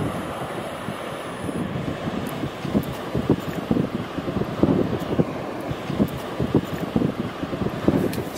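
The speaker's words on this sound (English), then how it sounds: "So this wind seems relentless." Strong, relentless wind at a surf coast buffets the microphone with a continuous low roar and gusty thumps, with the wash of surf mixed in underneath.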